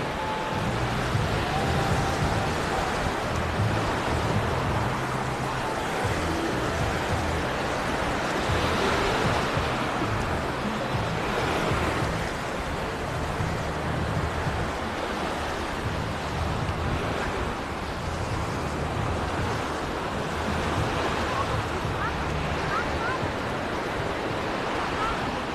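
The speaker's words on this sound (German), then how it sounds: "Das ist schon ein bisschen wellig hier." Rough sea waves at Gündoğdu beach in the late afternoon, a continuous loud roar of surf with wind buffeting, unbroken for the whole stretch.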